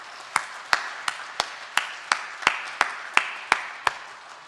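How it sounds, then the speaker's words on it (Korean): A church congregation claps together in a steady, even rhythm, about a dozen sharp, evenly spaced claps, moderately loud and without voices. "우리 박수하도록 하겠습니다"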